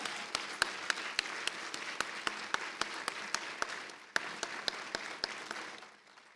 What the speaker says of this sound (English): Could Eric Robertson please stand and have another round of applause for Eric Robertson?